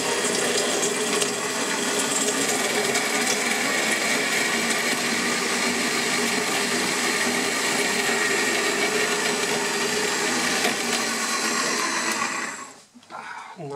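A power tool cuts a cutaway, a loud continuous whirring grind that holds steady for about twelve seconds before winding down, with a voice faintly present beneath it.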